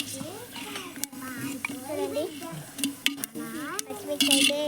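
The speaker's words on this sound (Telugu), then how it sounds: "ఒకసారి అయితే ఆ పచ్చడి ఇచ్చింది మిక్స్ చేస్తున్నాము" Chicken being mixed with chutney and onions in a clay pot, with soft scraping and stirring clatter beneath steady talk and a few sharper utensil knocks.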